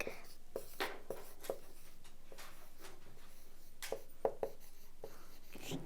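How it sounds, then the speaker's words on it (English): Pen writing by hand on paper, quiet scratchy strokes coming in short bursts with small pauses between them, close and faint against a soft background. "I am writing processing"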